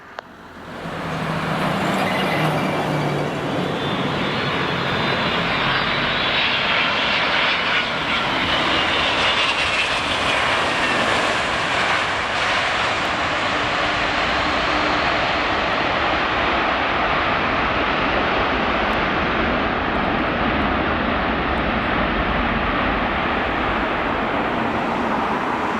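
A Corsair Boeing 747 airliner roars past on a low approach and go-around at an airport runway, loud sustained jet engine noise close overhead that slowly fades in pitch, with no talk.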